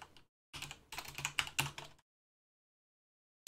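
Rapid clicking keystrokes on a computer keyboard come in a quick burst, close and fairly quiet, then stop into silence before one more tap.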